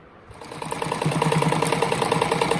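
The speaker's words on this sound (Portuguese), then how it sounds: "Agora tô passando uma costurinha na última patinha." A sewing machine stitching a patchwork fabric rug starts up and runs in a fast, loud, even mechanical rattle close by, with no talk.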